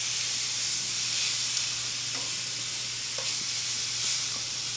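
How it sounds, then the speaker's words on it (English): Pork loin chops sear in a hot pan on a stovetop, giving a steady soft sizzle and hiss with a few faint clicks and taps of turning the meat, and no talking. "Now I just like get them on that side, like a quarter turn, to get them seared on all sides."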